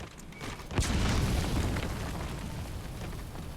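A grenade goes off in the stealth action game Metal Gear Solid V: one loud, close blast with a sharp onset, trailing into a rumbling roar that fades slowly over the next few seconds.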